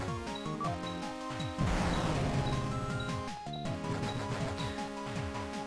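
An explosion in the video game Cave Story hits as one loud crashing burst that rings out over looping chiptune music, with no voices.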